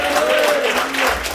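A church congregation applauds in gratitude to God during a Spanish-language service, steady broadband clapping with a faint held tone running underneath, loud and close.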